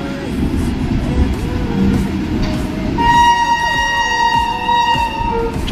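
At a busy station the Howrah–Muzaffarpur train pulls in with a low rumble as people talk nearby, and a sustained electric train horn sounds for the last few seconds.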